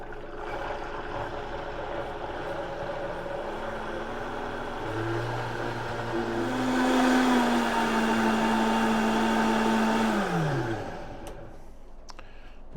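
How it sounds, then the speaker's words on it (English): A blender whirs steadily through sweet potato puree mixed with eggs for pancakes, the motor pitch dropping and then climbing to a stronger, higher whine before winding down near the end, with no voices. "let us blend this and see what happens"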